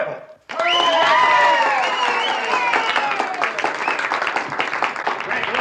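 An audience at a talent contest breaks into loud, sustained applause right after a short voice, the dense clapping staying near and steady to the end.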